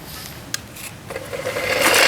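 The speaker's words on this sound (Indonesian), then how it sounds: "Nah, cuma diamplas aja begini, ngikutin aja." Sandpaper rubbing along a fishing rod handle clamped in place, a steady rasping scrape that builds in loudness and brightness toward the end, close and with no talking over it.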